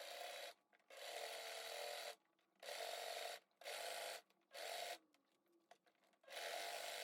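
A sewing machine stitches a bag made from a blazer in several quick bursts of whirring needle noise, separated by short pauses, close and fairly quiet with no talking.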